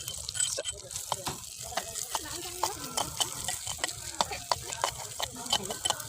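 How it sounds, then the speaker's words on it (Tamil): Mustard seeds crackle and pop in hot oil with irregular sharp snaps over a sizzling background, with a person talking alongside. "கடுகு நல்லா பொரியுது"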